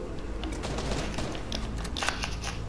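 Rapid bursts of gunfire in a video game, a dense crackling volley that keeps going with sharper cracks near the end, fairly loud and alone.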